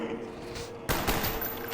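Gunfire in Call of Duty Black Ops Zombies, a sudden burst of rapid shots after a quieter stretch, loud and close over game background sound, with a voice speaking.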